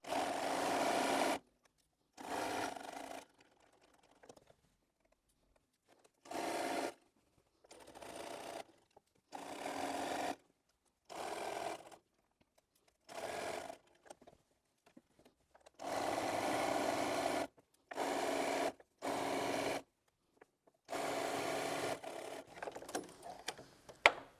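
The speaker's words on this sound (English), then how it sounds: "Now I've sewn all the way round" A sewing machine stitching around the edge of an apron, heard close as a series of short whirring bursts separated by pauses, some longer runs later, with no talking.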